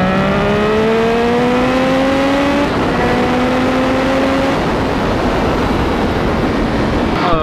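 Triumph Street Triple R motorcycle engine revving while riding in traffic, a loud, steady engine note climbing in pitch, dropping, then climbing again before easing off into road noise, with no talk over it.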